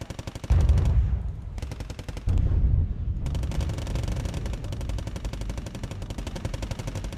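Heavy bombing and gunfire in the wartime strategy game Wargame AirLand Battle: deep booming blasts land over a steady stream of rapid machine-gun fire, loud and dense throughout with no voices.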